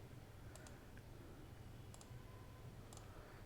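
Mouse clicks on a computer while setting up an AWS security group, three quick double-click pairs spaced about a second apart over a low steady background hum.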